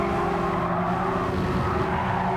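Porsche 911 GT3 sliding through a corner at Spa in Gran Turismo 7, a steady loud engine drone with tire scrub and skid noise running continuously without talk.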